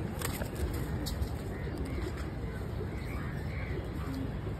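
White pigeons coo softly in a loft among other birds, with background chatter and faint outdoor noise, the calls low and intermittent rather than prominent.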